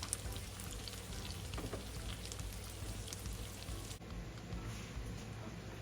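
Omelette frying in a skillet, a steady close sizzle with scattered crackles like light rain, continuous and fairly quiet throughout.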